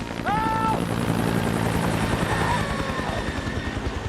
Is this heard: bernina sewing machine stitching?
no